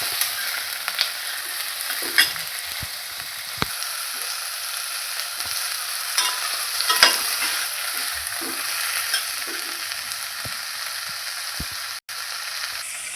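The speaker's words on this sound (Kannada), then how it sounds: "ಒಂದು 5 ಮಿನಿಟ್ಸ್ ಫ್ರೈ ಮಾಡ್ಕೊಳ್ಳೋಣ." Capsicum fries in a hot pan for soya manchurian, a steady bright sizzle running throughout with scattered stirring scrapes and clicks, close and fairly loud, with no voices.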